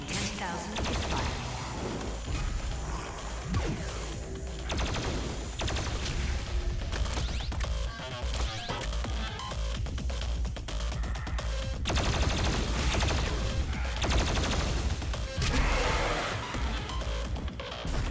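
The BFG 10,000 fires in DOOM Eternal amid dense gunfire, mechanical clanking and rumbling blasts, a loud, chaotic, continuous barrage.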